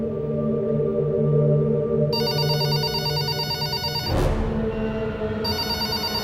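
A telephone rings with a bright, repeating electronic tone, pausing briefly and then resuming, over a steady background hum.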